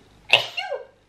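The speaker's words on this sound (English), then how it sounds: "I'm gonna sneeze." A single sharp indoor sneeze, close and loud, with a quick burst followed by a short trailing exhale, over otherwise quiet surroundings.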